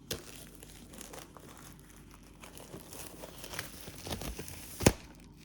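Plastic wrap crinkling and tearing as a Fast and Furious 10 4K Ultra HD plus Blu-ray steelbook is unwrapped, a close, continuous rustle that ends in one sharp snap.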